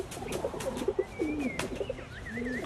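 Rock doves coo with low, throaty, repeated calls at close range, mixed with a few faint higher chirps from other birds in an outdoor setting.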